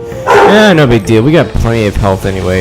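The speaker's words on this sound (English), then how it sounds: "That's my brother's dog in the background" Dexter, a pet dog, barks in the background of a room while someone talks loudly over it. The barks are partly masked by the speech.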